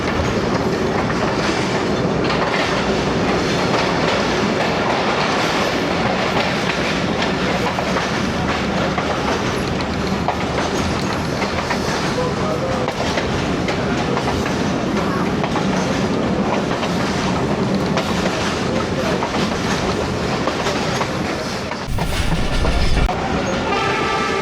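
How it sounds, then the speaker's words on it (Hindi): Pakistani passenger train on a branch line between Sialkot and Wazirabad rumbles loudly and steadily as it passes beneath a highway, with continuous wheel clatter, a brief horn near the end and no talk. "ये वो हाईवे है जिसके नीचे से अब ट्रेन गुजर रही है।"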